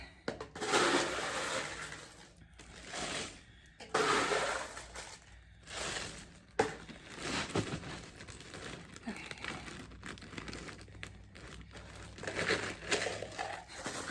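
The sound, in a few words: adding ice to a bag for homemade ice cream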